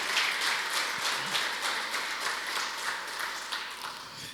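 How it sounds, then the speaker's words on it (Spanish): A congregation in a church claps together, a steady moderate patter of many hands held evenly at mid distance for the whole stretch. "Le damos un fuerte aplauso a todos los que estamos acá presentes"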